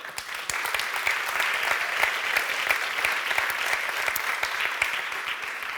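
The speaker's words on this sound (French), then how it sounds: "Et on peut les applaudir encore une fois" Audience at the Grand Prix du Brand Content 2021 awards ceremony applauds once more, a sustained wash of many hands clapping, moderately loud and even throughout.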